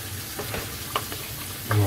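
Homemade tomato sauce with thyme, basil, crushed black peppercorn and bay leaves cooking in a pan, a dense close sizzle with a few utensil taps and a low hum rising at the end.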